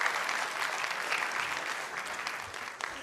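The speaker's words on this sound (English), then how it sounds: "give our panelists another round of applause" An audience applauds panelists after a discussion, a dense, steady wash of many hands clapping at moderate distance, tapering slightly toward the end.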